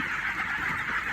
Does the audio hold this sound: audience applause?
no